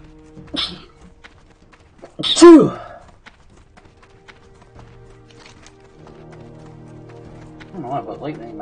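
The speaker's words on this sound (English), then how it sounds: "lately my sneezes always come in twos, at least." Two sneezes come close together, a short one followed by a louder, fuller one, then quiet game sounds from World of Warcraft Classic carry on in the background.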